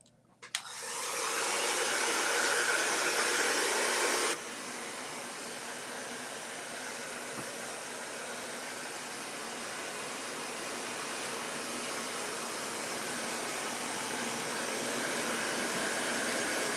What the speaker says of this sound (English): we're going to use the heat tool just to kind of preliminarily dry it.